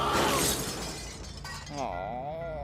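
A sudden crash of shattering glass bursts out, then fades into a wobbly, warbling tone.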